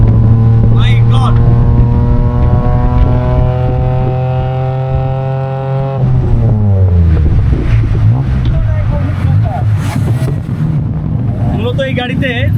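A Thai tuk-tuk engine drones loudly with a strong buzzing tone that drops in pitch as it shifts, then roars again amid wind rush while riding, and someone talks over it.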